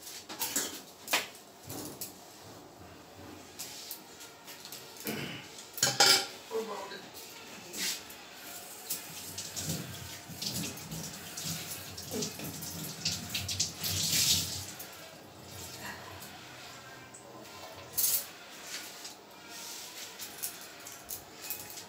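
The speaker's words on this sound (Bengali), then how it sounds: "ওদিক থেকে না এদিকে পুরো জল চলে আসে বাসন মাজার সময়।" Dishes being washed under running tap water in a home kitchen, with irregular splashing and clinking while someone talks over it.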